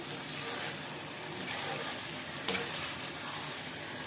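Chicken is stirred through masala in a hot pan for bhuna murgh, giving a steady close-up sizzle and soft scraping with one brief sharper knock partway through.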